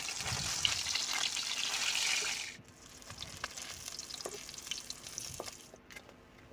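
Tilapia fish frying crisp in hot oil in a wok, a loud dense sizzle for a couple of seconds that drops to quieter crackling and light scraping.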